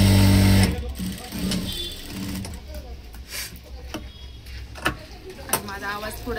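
Sewing machine stitching blouse fabric, a loud whirring run at the start that cuts off, followed by quieter mechanical clicks and someone speaking over it.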